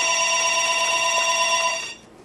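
A telephone rings with a steady electronic tone, loud and close, for about two seconds before cutting off, with no one talking over it.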